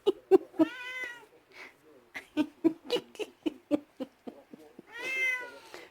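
A soaking-wet kitten meows repeatedly in short, close, insistent cries spread across several seconds, with a longer wail at the end, alongside a few faint soft sounds.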